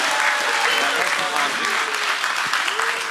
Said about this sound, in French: j'invite une grande main d'applaudissements pour la grande